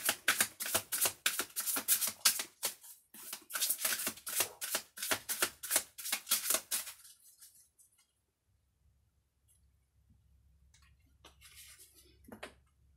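Tarot cards being shuffled for a reading, giving dense, rapid papery riffles and snaps for about seven seconds, then near silence with a few faint soft rustles toward the end.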